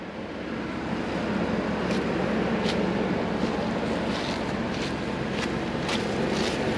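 An old Jeep running just after starting, a steady broadband rumble with wind buffeting the microphone outdoors.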